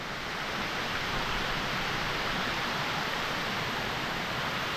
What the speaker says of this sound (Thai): บริเวณน้ำตก